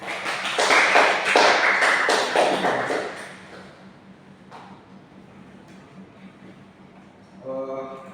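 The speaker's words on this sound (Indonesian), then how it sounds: "Mari kita beri aplaus terlebih dahulu." Classroom applause from a ninth-grade junior high maths class, a burst of many hands clapping loudly for about three seconds before fading into quiet room noise, with a brief voice near the end.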